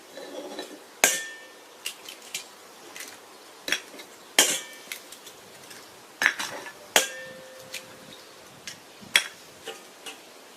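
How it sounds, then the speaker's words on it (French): A whisk beats eggs with sugar in a bowl while making brownies on a barbecue, giving sharp, irregular metallic clinks and taps that ring out in a quiet space. "mélangez les œufs"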